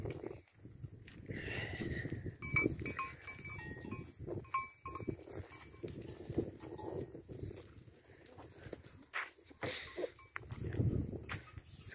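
Goats bleat on a farm in the sertão of Canudos, Bahia, giving several short wavering calls at moderate distance over shuffling, hoof-like clatter and outdoor ambience.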